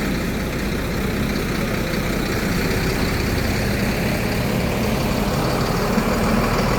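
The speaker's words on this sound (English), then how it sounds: "And you've got another concrete truck. He'll go around the corner." A concrete truck's heavy diesel engine rumbles steadily as it drives by on a city street amid a building boom in Da Nang, a loud continuous low drone with no talk.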